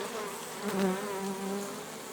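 Honey bees buzz close by at an apiary near flowering rapeseed, a steady droning hum with a wavering pitch as individual bees pass, without any voices.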